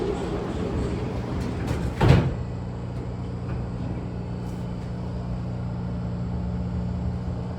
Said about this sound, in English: The doors are about to close.